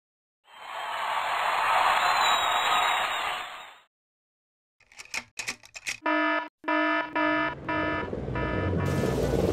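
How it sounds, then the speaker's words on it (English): A loud electronic alarm from a kids' E-Blox circuit kit first sounds as a continuous harsh buzz for about three seconds, then returns as a series of rapid, pulsing beeps. "The alarm rang just on time"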